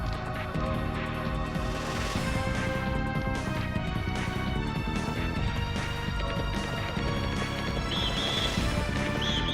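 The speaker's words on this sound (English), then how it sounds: "That is definitely a horse, that's what that is." A horse whinnies and gallops with hoofbeats in the video game The Legend of Dragoon, layered densely over loud, continuous game music and effects.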